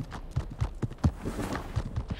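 Horse hooves clip-clop in a steady walking rhythm in the horror game Ad Infinitum, close and moderately loud, about eight distinct hoof strikes across a couple of seconds with a low ambient bed underneath.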